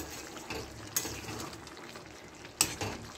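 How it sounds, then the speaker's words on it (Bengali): Ground spice mix being stirred into a soybean and potato curry in a pan, with soft scraping and a quiet sizzle, plus two sharp utensil knocks against the pot. "এবার মশলাটা দেওয়ার পরে ভালো করে একটু নেড়ে নেব।"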